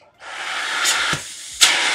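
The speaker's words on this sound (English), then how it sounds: "This is my whole house vacuum and I've plugged it in right over there." A whole house vacuum cleaner starts up and runs with a steady airy roar, broken by two sharp sucking bursts as the hose grabs air, close and loud.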